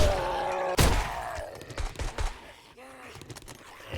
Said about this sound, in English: And he is out shooting at something again.